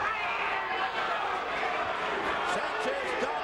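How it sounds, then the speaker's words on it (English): Boxing arena crowd chanting in unison for hometown favorite Augie Sanchez in his fight against Luisito Espinosa, a loud rhythmic roar of many voices filling the hall. "you can hear the crowd chanting in unison for their hometown favorite, Augie"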